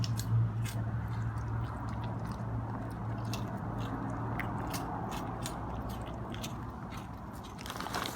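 A child chewing and eating banana close up, with soft wet munching and clicky mouth sounds in a steady run over a low background hum, without talk.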